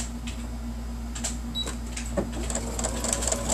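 A sewing machine backstitches fabric with a steady, faint mechanical whir and a few light clicks, close by and without any talk.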